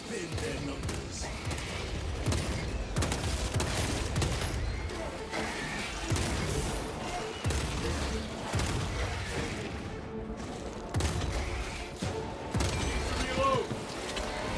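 Turrets in the video game Space Marine 2 fire in a steady, dense clatter of shots mixed with mechanical clanks and crashes, continuous and fairly loud throughout.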